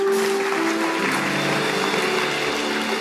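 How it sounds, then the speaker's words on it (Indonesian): A church congregation claps together for Jesus during a Sunday worship service, a dense, loud, steady wash of applause lasting a few seconds. "Kasih tepuk tangan buat Tuhan Yesus."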